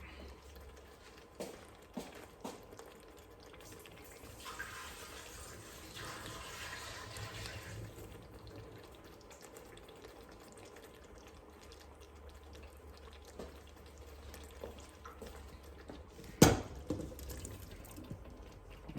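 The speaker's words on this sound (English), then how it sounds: "I'm gonna pour the water off of this and put it in there." Cooking water being poured off into a pot in a home kitchen while making curry chicken, a steady broadband splash and trickle lasting several seconds with a sharp clank near the end.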